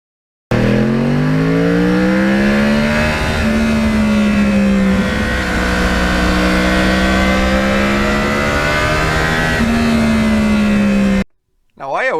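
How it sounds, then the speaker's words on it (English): A Yamaha R1 sportbike with a cross-plane engine, first year of that engine, riding at speed: a loud, close, continuous engine roar with shifting pitch and a brief dip mid-ride, cutting off abruptly near the end. "the defining part of the motorcycle, even more than the styling, the cross-plane engine"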